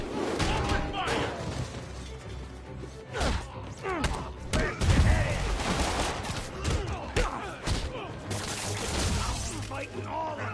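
Gunfire during a fight in Marvel's Spider-Man at the Fisk museum, with repeated sharp shots, thuds and crashing impacts scattered across the clip, mixed with shouting voices and game music.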